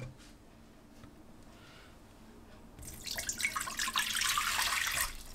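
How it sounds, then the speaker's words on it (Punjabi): A glass of water is tipped into a pressure cooker during home cooking. After a quiet start, the pour gushes and splashes loudly for about two seconds close to the microphone. "ਇੱਕ ਗਲਾਸ ਅਸੀਂ ਪਾਣੀ ਪਾਵਾਂਗੇ ਪਹਿਲਾਂ ਕੁੱਕਰ 'ਚ।"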